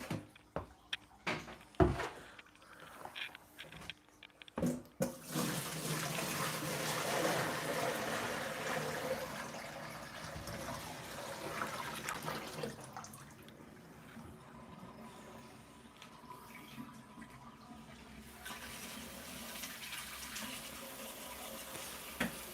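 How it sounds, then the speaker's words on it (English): Water runs steadily from a tap into a bucket, a continuous rushing splash after a few knocks and clatters at the start. "I'm just filling up a bucket of water"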